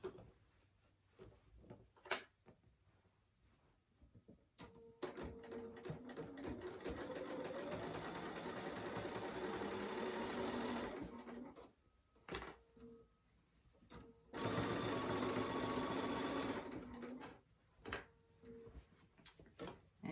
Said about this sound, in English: I have it clipped, 1/4 of an inch, or I'm stitching in the ditch